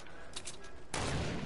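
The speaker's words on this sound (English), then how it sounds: "Oh, he almost sniped me." Sniper rifle fire in a multiplayer shooter game: faint crackling shots early on, then a loud, close broadband burst of gunfire sustained through the last half-second.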